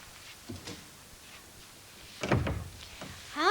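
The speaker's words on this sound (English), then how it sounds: "Close the door." An indoor door in a 1982 motel drama setting is pushed shut with a single close thunk and brief rattle around mid-clip, after quiet room tone and faint background sounds.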